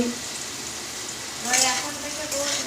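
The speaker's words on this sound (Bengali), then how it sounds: "এখন এটা আলু আর রাঙা আলু ভেজে নিচ্ছি।" Potato and sweet potato pieces fry in hot oil for a chorchori, with a steady close sizzle that swells briefly midway, and a voice talks faintly over the frying.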